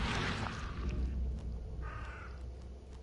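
A single bird caws in the video game Sunk City, a hoarse call rising briefly out of steady low ambient rumble, fairly faint and apparently overhead, with no talk over it.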